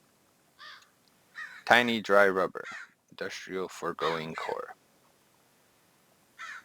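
Crows caw loudly and repeatedly in a series of harsh, clustered calls, heard up close between and under a person talking.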